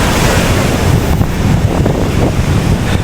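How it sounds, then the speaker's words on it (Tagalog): Rough sea waves crash and churn under strong wind, a loud, dense, continuous roar of surf with gusts buffeting the microphone and no voices. "Grabe ang dagat."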